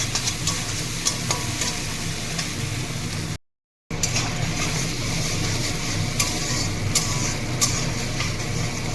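Spice paste with turmeric being slowly sautéed in a pan for a koi fish curry, a soft continuous sizzle with faint scraping stirs, interrupted by one brief dropout.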